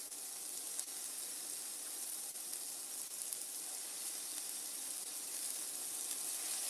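Sausages sear in a pan on a stove at medium heat, giving a steady, soft broadband sizzle and hiss that holds evenly throughout with no talking.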